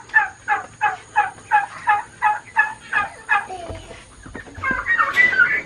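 A chicken outdoors gives a quick, steady run of about nine clucks, then a few louder, squawkier calls near the end, fairly close, with no talking.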